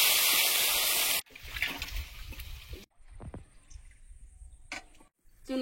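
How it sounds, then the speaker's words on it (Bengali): Water is poured into cooking for a dish with small chuno fish, a loud hissing rush lasting about a second, then quieter kitchen clatter and scattered brief sounds. "জল দিয়ে দেবো।"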